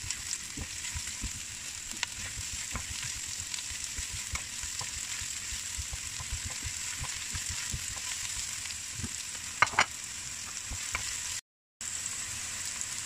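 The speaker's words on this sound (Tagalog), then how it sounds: "Haluin lang, parang ginigisa." Aromatics sauté in a pan with a steady, even sizzle, broken by frequent soft clicks and scrapes of stirring and one brief sharper clatter near the end.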